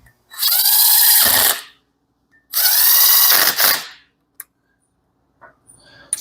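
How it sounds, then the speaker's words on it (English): An impact wrench drives cylinder head bolts during a Subaru head rebuild: two long, loud rattling bursts of about a second each, then a few faint clicks and taps, with no talk. "We use an impact to get it down there."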